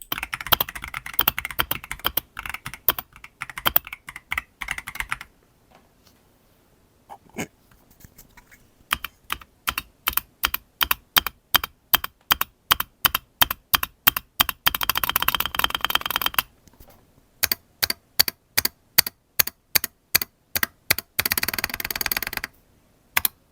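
Rapid typing on a Royalaxe L75 mechanical keyboard with PBT keycaps, close and crisp, shifting between fast continuous bursts and slower evenly spaced individual keystrokes with short pauses between runs.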